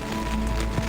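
Rain and wind beat steadily on a hiking tent during a mountain trek in the Néouvielle reserve, a dense continuous patter and rush with a slight swell near the end, no talking.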